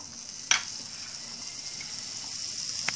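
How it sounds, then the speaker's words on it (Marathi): Butter sizzles steadily on a hot griddle, a continuous bright hiss with a sharp crackling burst near the start and another at the end. "इकडे गॅस पेटवलाय मी आणि तवा ठेवलाय। आपण पावभाजीसाठी पाव भाजून घेऊया। थोडंसं बटर टाकायचं।"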